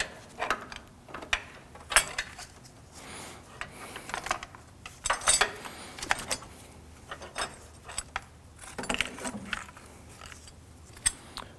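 A hand ratchet loosens the battery tie-down bracket nuts on a 2013-2015 Subaru XV Crosstrek, giving quiet, irregular bursts of clicking and metallic rubbing close by.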